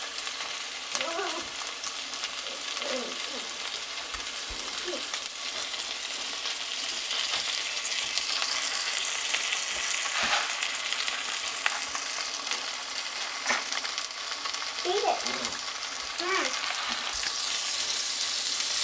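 Cheddar-topped burgers sizzle steadily in a pan, a continuous loud frying hiss with faint crackles throughout and no talking.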